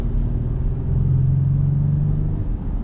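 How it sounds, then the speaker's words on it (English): A 2022 Acura MDX with a V6 engine runs with a steady low rumble and a smooth hum that rises slightly in the middle, heard from inside the car with no talking. "I will say this V6 sounds really nice"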